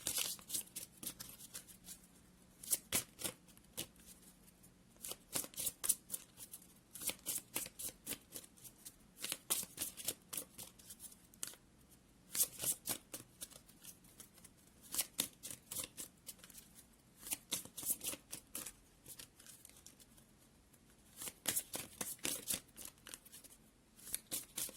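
A deck of cards is shuffled for a pick-a-card reading, with repeated quick riffling bursts in irregular bunches over about twenty-five seconds. The shuffling is close and crisp against a quiet room.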